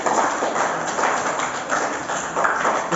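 Children clapping together in a first-grade classroom, a dense, rapid patter of many small hands that swells and eases in pulses, close and fairly loud, with no talking over it.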